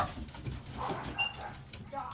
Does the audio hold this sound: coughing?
no